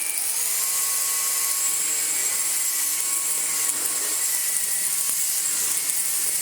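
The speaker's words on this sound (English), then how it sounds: "Every single tiny little stone. Oh wow. It just rattles around the head" A Numatic Quick NQ100 vacuum cleaner's floorhead whines steadily at high pitch while tiny stones rattle around inside the head, a continuous close mechanical buzz with faint clatter and no speech.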